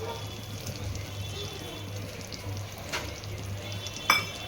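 A spoonful of butter and a little oil sizzle in a pan while chicken kheema is being cooked, making a soft, steady frying hiss with faint stirring and one sharp clink near the end.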